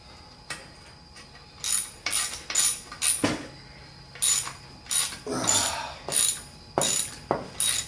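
A ratchet clicks in quick bursts while tightening ball joint hardware, about a dozen short rapid runs of ratcheting with brief pauses between them, close and fairly loud.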